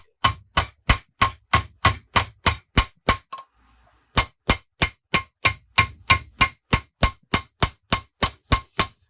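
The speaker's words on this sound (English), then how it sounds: "I just use this cheap little ball peen hammer" Cheap little ball peen hammer peening a small Viking seax knife blank held on a vise: a rapid, even run of sharp metallic strikes, about two to three per second, with a brief pause midway before the hammering resumes at the same pace.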